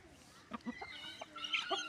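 Hens cluck in short, scattered bursts close by, with a rooster's higher calls mixed in over light background noise.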